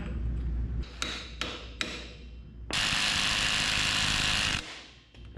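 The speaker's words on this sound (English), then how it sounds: "so we're gonna have to get this nut off" A big nut coming off a CV axle on a 1963 International Loadstar truck: a few metallic clanks, then a loud sustained rattling burst of an impact wrench, ending with scattered clicks.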